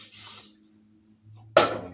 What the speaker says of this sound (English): We're going to use this spray.